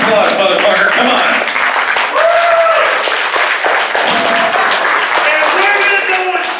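Audience applause at a loud party event, a dense wash of crowd clapping running throughout beneath voices and background music.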